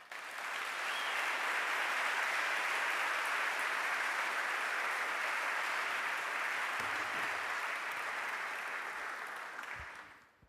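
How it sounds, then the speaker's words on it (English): Audience applause welcoming a speaker at a public talk on Palestine, a dense, sustained wash of clapping from a large crowd, steady and even for about ten seconds before fading out at the end. "giving him a big round of applause"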